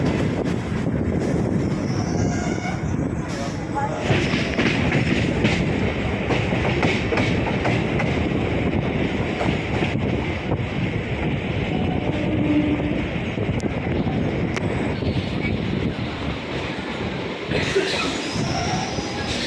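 A local train on the Sealdah–Hasnabad line runs steadily on its rails, with a continuous loud rumble, rhythmic wheel clatter and occasional squeals, heard from on board.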